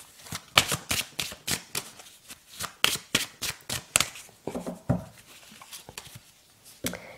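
Tarot cards are shuffled by hand, with a quick run of sharp riffling slaps that slows and thins toward the end, close and crisp.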